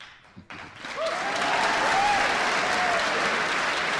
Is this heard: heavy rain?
no